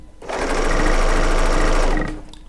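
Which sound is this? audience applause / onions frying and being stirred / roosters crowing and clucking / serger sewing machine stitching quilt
serger sewing machine stitching quilt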